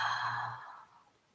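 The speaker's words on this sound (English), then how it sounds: "Just another deep inhale to exhale." A single deep exhale during a breathwork exercise, a soft breathy sigh that fades out over about a second, close and alone.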